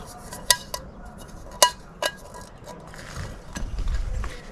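Metal parts of a compact gas camping stove and its pot being handled, a few sharp clinks and taps spaced apart, then soft rustling and shuffling close by.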